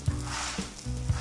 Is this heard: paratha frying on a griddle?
yes